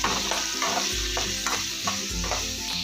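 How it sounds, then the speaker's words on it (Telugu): Grated radish fries with cumin seeds and garlic in a pan, giving off a loud, close sizzle with rhythmic scraping strokes as it is stirred. "ఇవి కొంచెం మగ్గిన తర్వాత ముల్లంగి వేసి దోరగా వేయించాలి"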